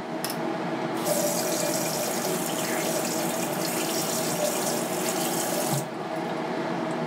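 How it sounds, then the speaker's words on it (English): Tap water runs steadily into a hotel room sink, a continuous close rushing splash that briefly changes pitch as something is rinsed under cold water, then cuts off. "Now, you gotta rinse it under cold water."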